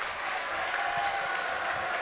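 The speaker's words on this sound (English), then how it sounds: "that gets a round of applause from the audience here in the final" A crowd applauds at a Yu-Gi-Oh! championship final, steady clapping spread evenly throughout without rising or fading.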